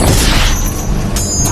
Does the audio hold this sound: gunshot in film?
yes